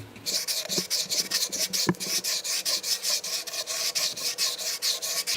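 Sandpaper is rubbed in quick rhythmic back-and-forth strokes across the top of a wooden bootube, a close, steady scratchy rasp repeating about every quarter second, with no talk.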